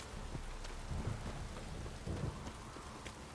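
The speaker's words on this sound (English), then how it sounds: "This downpour's a bastard" A heavy downpour hisses steadily in The Witcher 3 video game, with low thunder rumbles rolling in at around one and two seconds. No voices are heard over the rain.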